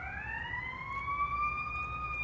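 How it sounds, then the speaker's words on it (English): An ambulance siren wails steadily, its pitch sliding slowly upward, at moderate distance over low traffic rumble. "That's just the ambulance"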